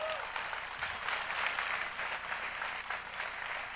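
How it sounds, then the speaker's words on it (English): A large audience at WWDC applauds in a steady, dense wash of clapping that lasts the whole stretch. "Let's give them a big round of applause"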